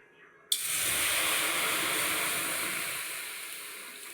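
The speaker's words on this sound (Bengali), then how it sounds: "এই যে কুল, কড়াইটাও গরম হয়ে গেছে। কড়াইয়ে আমি অল্প জল দিয়ে দেবো।" Water is poured into a hot wok for making jujube pickle and erupts into a sudden loud sizzle that hisses steadily and fades slowly over a few seconds, close up and with no voice.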